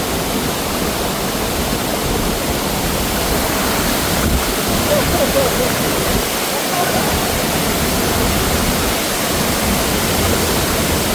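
A strong waterfall at a hidden falls roars steadily and loudly, a dense wall of rushing, crashing water filling the whole stretch without a break.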